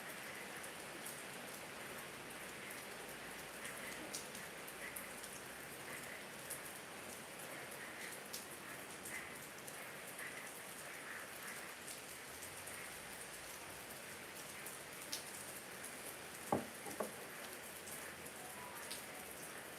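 Steady rain falls and patters on a surface for the whole stretch, a dense, even hiss with a few sharper drops near the end and no talk over it.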